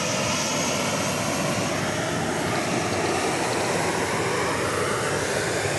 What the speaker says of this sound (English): And we have another plane passing us by here.